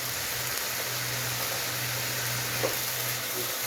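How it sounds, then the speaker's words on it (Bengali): Chicken fries in a pan with turmeric, chili, coriander, cumin and meat masala, giving a soft, steady sizzle and hiss throughout as it is gently stirred, with only a faint scrape near the end. "হালকা করে নেড়ে নিচ্ছি মাংসের মশলা দিয়ে।"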